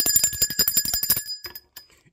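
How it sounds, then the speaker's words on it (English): A small bell is rung in a rapid, loud trill of a dozen or so quick strikes close by. A few sparse, quieter dings follow as it rings out, with no voices. "Let me ring the bell for that."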